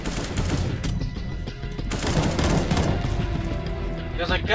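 Automatic gunfire in a CS:GO co-op mission, dense overlapping bursts of shots and booms at close range, with players' voices mixed underneath.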